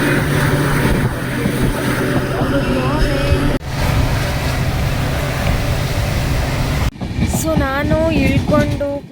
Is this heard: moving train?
yes